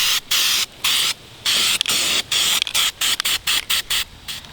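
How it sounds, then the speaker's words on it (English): An aerosol spray paint can sprays a car engine cover panel in a run of hissing bursts, several long passes followed by quicker short blasts, close and loud with no talk. "spray over the entire panel once more"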